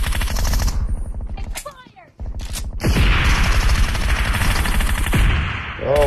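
Gunfire in the PUBG video game: rapid automatic bursts of shots, loud and repeated, dropping away briefly before resuming in a sustained volley, with a voice speaking over parts of it.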